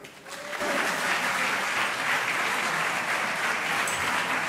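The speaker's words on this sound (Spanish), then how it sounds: "¡Un aplauso!" An audience applauds a student tuna group at a national contest in Valencia. The applause rises quickly after a quiet start into a dense, steady wash of clapping that holds at even loudness throughout.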